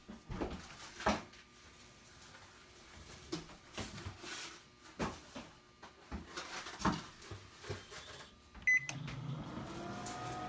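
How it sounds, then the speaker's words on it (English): A microwave oven hums steadily with a stuffed animal inside, broken by repeated clicks, knocks and faint rattles; near the end a brief beep and a lower shift in the motor tone stand out. "Putting the stuffed animal in the microwave."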